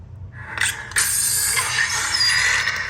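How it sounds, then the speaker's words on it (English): A battery is pushed against a spring into an SP Sabers Darkness V3 lightsaber hilt, giving close, small mechanical clicks and scraping of metal parts in quick succession. "So now we'll put our battery in. Again, we're just gonna push down against that spring."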